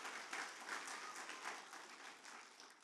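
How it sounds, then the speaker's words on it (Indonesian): A church congregation applauds during a worship service, a dense, steady wash of many hands clapping together that carries on for a few seconds at moderate volume before easing slightly toward the end. "Tepuk tangan yang paling meriah buat Allah kita."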